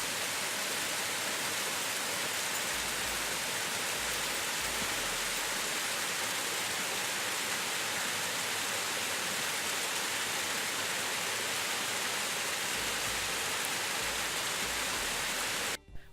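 A waterfall near Sequoia National Park pours in a dense, constant broadband roar, loud and unbroken for the whole stretch and cutting off abruptly at the end.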